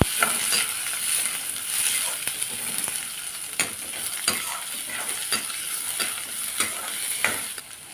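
A steady sizzle of chopped shallots sautéing in a pan, with occasional scrapes and stirs of a utensil, close up and even, no voices.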